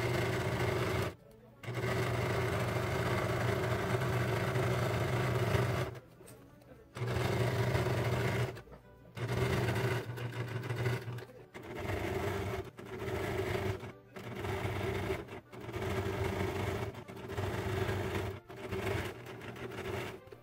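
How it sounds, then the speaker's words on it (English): A sewing machine stitching a sixteenth of an inch from the edge of a corset, running in repeated bursts of steady motor whirring, several seconds long at first and then shorter, separated by brief pauses, close and clear. "I'm just going to sew 1/16 of an inch from this edge"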